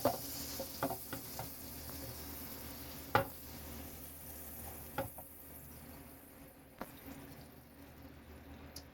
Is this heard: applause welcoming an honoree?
no